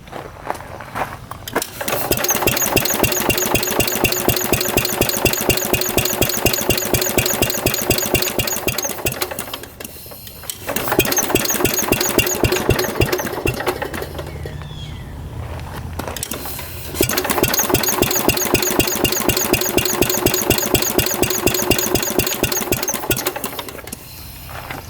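A 1950s mini tractor engine cranks over and over without catching, in three long bursts of fast, steady chugging separated by short pauses.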